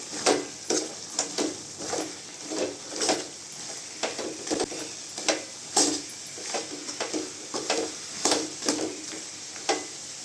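A spoon scrapes and stirs masala in a pan for Tamil-style mutton kulambu, with rhythmic scraping strokes about once a second over a light sizzle, close and clear with no talking.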